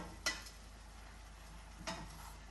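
Vegetables sizzle in a pan for a Mediterranean chicken and vegetable dish, a soft steady frying hiss broken by two light clinks of a utensil against the pan.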